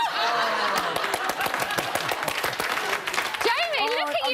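Television studio audience applauding and laughing, a steady dense patter of clapping with scattered chuckles, while a presenter keeps talking over it throughout.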